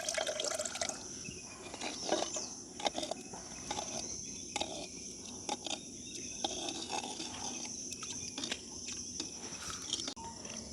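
Water poured into flour and stirred for a village-style crab soup, heard as soft wet liquid sloshing and scraping with scattered drips, moderately close, over a steady high insect-like chirring from outdoors.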